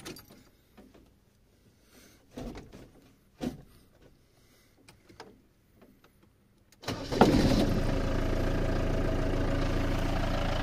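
The V8 engine of a Mercedes Vito van cranks and catches after several scattered clunks and movements, then settles into a steady, loud idle close by, with no talk over it.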